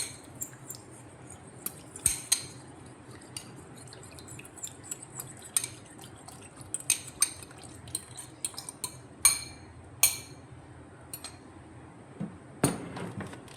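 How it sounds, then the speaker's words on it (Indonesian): Matcha cheesecake batter being stirred in a bowl, a steady soft scraping broken by scattered clinks of a utensil against the bowl, up close and fairly quiet, with no talking. "Aduk lagi."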